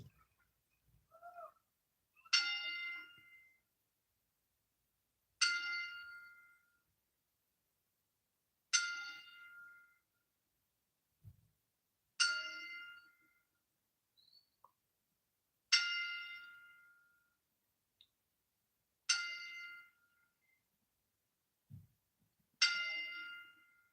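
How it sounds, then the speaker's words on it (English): A wrestling ring bell is struck for a WWE ten-bell salute, ringing out as seven slow, evenly spaced clangs about three seconds apart, each fading in near-silence before the next. "Mean Gene Okerlund with a 10-bell salute."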